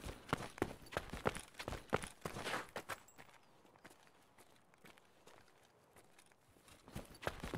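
Footsteps in the Escape From Tarkov shooter game patter quickly and rhythmically at first, fade to near silence, then return faintly toward the end.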